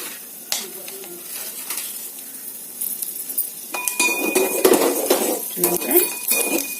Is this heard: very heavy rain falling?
no